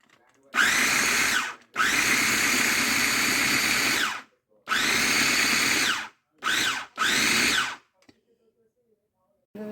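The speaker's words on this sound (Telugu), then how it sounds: "సెలరీ గోంగూర చట్నీని ఫుడ్ ప్రాసెస్లో వేసి పడుతున్నానండి, మిక్సీతో పని లేకుండా" A food processor grinds celery and gongura chutney in five loud whirring bursts of uneven length separated by brief pauses, the motor pitch rising and falling as each pulse starts and stops.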